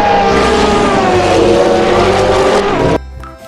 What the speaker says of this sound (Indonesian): Wih, mobil balap.